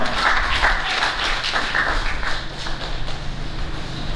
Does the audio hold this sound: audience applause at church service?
yes